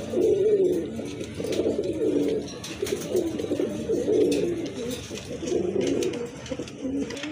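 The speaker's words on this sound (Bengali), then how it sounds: "আরেক জোড়া কবুতর দেখতে পাচ্ছেন, চাইনিজ আউল কবুতর" Chinese owl pigeons offered for sale coo steadily in low, warbling phrases close by, several birds overlapping in an unbroken murmur.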